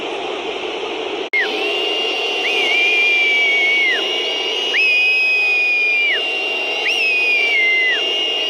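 Galatasaray fans whistle in a stadium, loud and piercing, in sustained shrill surges that rise and hold several times over a constant crowd roar.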